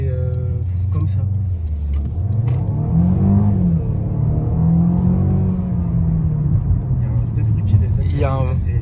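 A Mercedes 200 car engine revs with a low, resonant rumble that rises and falls under steady conversation in the cabin.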